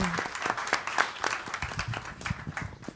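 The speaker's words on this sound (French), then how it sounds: "Vous pouvez l'applaudir." Audience at a French event on men's engagement for gender equality applauds steadily, a dense patter of many hands clapping close by, with faint voices mixed in.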